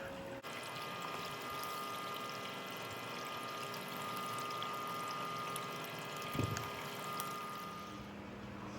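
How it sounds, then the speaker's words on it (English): Water pours and trickles steadily through a small cleanup sluice as gold-bearing material is fed in, a continuous even wash with a brief louder splash near the end. "I'll start feeding in my cleanup sluice right here."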